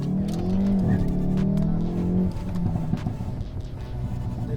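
A Hyundai i30 N's 2-liter engine revs hard and close while climbing a mountain road, a strong droning growl that drops in pitch as it shifts, then keeps pulling steadily.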